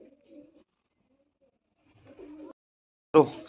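Pigeons coo softly in a few separate bursts with quiet gaps between them, the last call being the nearest and loudest.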